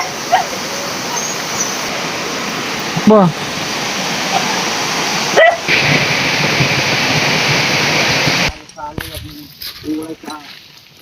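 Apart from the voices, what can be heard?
heavy rain in a forest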